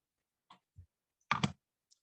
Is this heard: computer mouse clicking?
yes